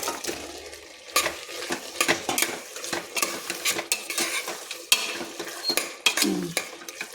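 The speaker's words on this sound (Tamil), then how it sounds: "வேக வச்ச மட்டனை உள்ளே போட்டுடலாம்." Boiled mutton tipped into a pot of biryani base with yogurt and stirred, a steady scrape and clink of a metal spoon against the pot under a soft sizzle, close and continuous.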